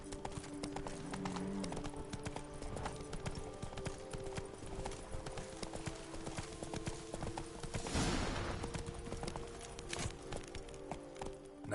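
Horse hooves clip-clop steadily at a riding pace through The Witcher 3 on Roach, with a saddle creak and faint ambient game music beneath, and a brief louder burst around the middle.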